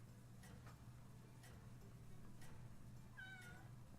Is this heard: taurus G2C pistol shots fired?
no